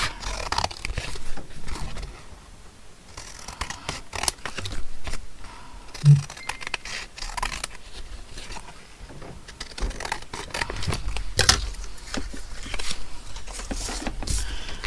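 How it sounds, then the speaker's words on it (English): Scissors cut a small image out of paper, a run of soft snipping and scraping noises close by, with irregular rustles and faint handling sounds and no talking. "We'll cut out this little image."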